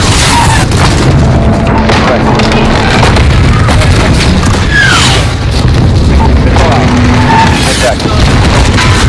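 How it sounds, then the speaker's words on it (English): A Hellfire missile strike in Call of Duty: Modern Warfare (2019) lands as a loud, sustained rumbling boom, with dense explosive noise filling the whole span and chatter mixed beneath it. "put a hellfire on that building."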